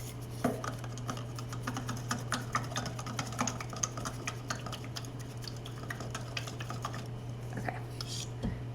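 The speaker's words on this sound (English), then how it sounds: "I'm going to stir that in so it's not just sitting at the bottom" A few drops of paint are stirred into ink in a small container. Quiet, rapid clicking and tapping repeats steadily against a low constant hum, close to the listener and with no speech.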